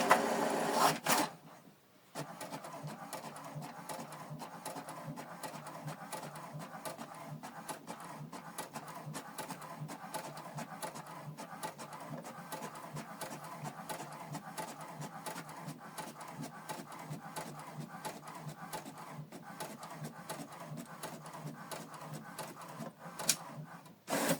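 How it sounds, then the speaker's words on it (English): A home printer feeds and prints the second page of a double-sided document, giving a continuous mechanical whirring and ticking rattle for over twenty seconds after a brief starting clunk, steady and close. "Then you select continue to print the second page."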